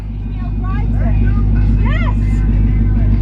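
A car with a custom exhaust roars under load while driving down the road, a loud, steady, deep engine rumble close by, with voices talking over it.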